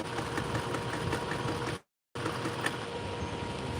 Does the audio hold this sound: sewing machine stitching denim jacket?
yes